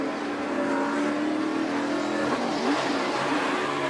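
NASCAR stock cars race in a steady, loud roaring pack, engines droning continuously with rising and falling pitch, though no distinct impact of the collision stands out.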